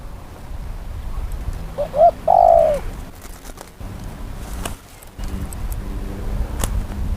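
A short, soft zebra dove coo rises out of outdoor background noise, followed by traffic rumble.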